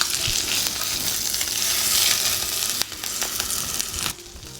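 A halibut fillet sears on parchment paper in a hot pan, giving a loud, dense, steady sizzle that drops in level twice near the end.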